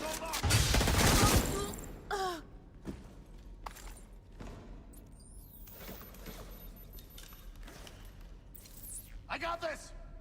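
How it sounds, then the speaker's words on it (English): M60 machine gun firing in The Division 2, a loud sustained burst at the start followed by scattered shots, impacts and combat effects under talk. "This M60 not hitting hard at all."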